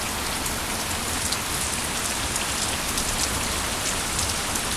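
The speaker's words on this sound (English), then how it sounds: "just kind of hanging out, waiting for the rain to stop." Steady rain falls at Chimney Pond on Mount Katahdin in Maine, a dense, even hiss of drops pattering on surfaces nearby, unbroken and with no voices.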